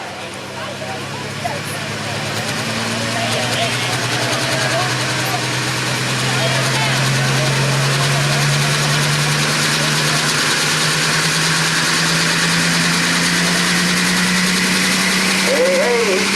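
A pulling tractor at a county fair tractor pull in Rush City, Minnesota revs its engine. The loud roar climbs steadily in pitch and holds high, with an announcer talking over it.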